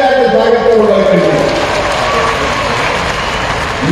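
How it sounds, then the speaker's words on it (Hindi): Applause from an audience at the Mohaniya tunnel inauguration ceremony, a dense, steady clatter of clapping throughout, with a voice speaking over the first part. "एक बार ताली बजा के स्वागत को बुला करिए।"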